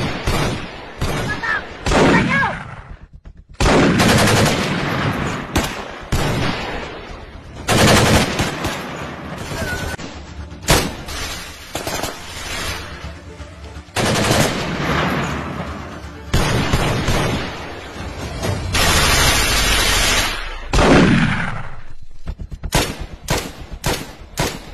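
Gunshots from an action-comedy short film, loud automatic bursts and booming blasts in repeated volleys with short pauses between them, with a little talk mixed in.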